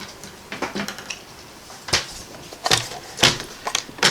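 White cardstock being cut on a paper trimmer during card making, heard as a few separate sharp, close slicing and clacking strokes with short quiet gaps between them and no talking.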